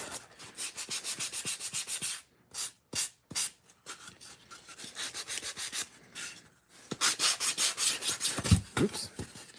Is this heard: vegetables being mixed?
no